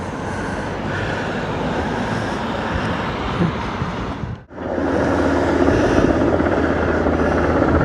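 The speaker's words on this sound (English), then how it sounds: "this rescue helicopter. It was just hovering above the sea" A rescue helicopter hovering over the sea drones loudly and steadily, its rotor and engine roar briefly dipping in the middle before returning at full strength.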